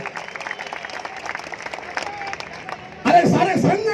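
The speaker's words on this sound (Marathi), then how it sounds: "एकदा जोरदार टाळ्यांचा प्रचंड कडकडा ठेवूया" Crowd applause breaks out loudly at a Bhim Mahotsav stage event in Jalna, rising suddenly after a man addresses the audience over a microphone and continuing as dense clapping.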